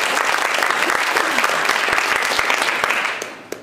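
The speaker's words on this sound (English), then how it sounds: "Let's give them a round of applause." Loud applause for a panel at a Rotary healthcare forum, thick clapping from the room that trails off in the final half second.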